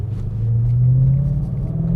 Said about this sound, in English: Going up a hill right now, downshifting.